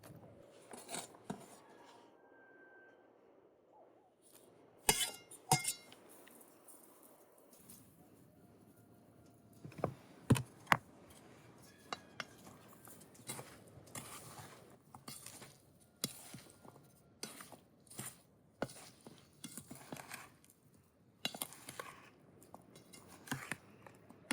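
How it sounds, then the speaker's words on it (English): A knife cuts pears into pieces for a pie filling in a village kitchen, giving a scattered run of sharp, uneven taps and clicks against a board. The sounds come up close at irregular intervals over a low, quiet background. "the pears need to be chopped first"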